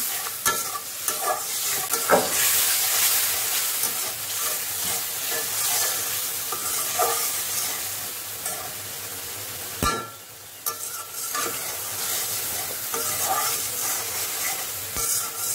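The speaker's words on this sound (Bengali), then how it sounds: "মশলাটাকে ভালো মতো না কষালে তো একটা মশলার স্মেল আসবে, তো মশলাটাকে আমি ভালোভাবে কষিয়ে নিচ্ছি" Rui fish curry masala with tomato stirred and fried in a pan, a steady loud sizzle broken by repeated scraping strokes of a spoon, with one brief lull near the middle and no talking.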